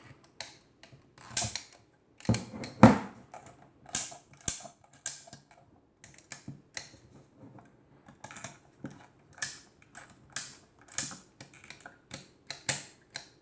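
Clicks and snaps come from the shutter mechanism of a Welta Reflekta II camera with a Pololyt 75mm f3.5 lens, a sparse sequence of close, crisp mechanical ticks and one louder release, widely spaced against near silence.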